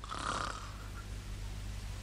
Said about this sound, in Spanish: ¡Cómo ronca!